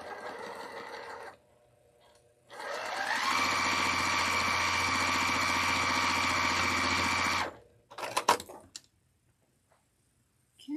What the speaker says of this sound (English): so let's sew these two together, because I have them right there.